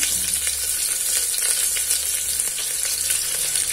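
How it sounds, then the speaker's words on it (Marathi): Onions and green chillies frying in a pan with a little asafoetida, a steady, close, dense sizzle with faint stirring scrapes running unbroken throughout, no voices. "कांदे मिरच्या चांगल्या परतून घ्यायच्या आहे आपल्याला."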